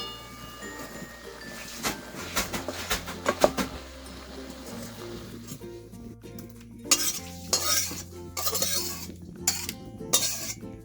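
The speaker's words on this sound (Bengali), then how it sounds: "এই জল সহ আমি অন্য একটা পাত্রে করে শাকগুলোকে নামিয়ে নেব।" Boiled drumstick greens and their cooking water being scooped from a pan into another pot, with scattered metallic scrapes, clinks and stirring knocks of a utensil against cookware, some louder bursts later on, no talking.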